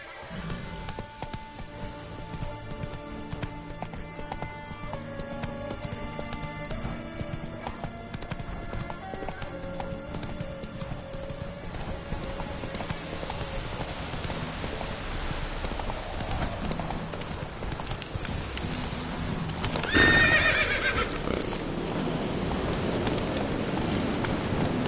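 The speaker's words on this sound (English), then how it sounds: "Whoa there, Roach. Let's go!" A horse's hooves clip-clop at a steady gallop in the video game The Witcher 3, a continuous rhythmic pattern over background music that swells near the end.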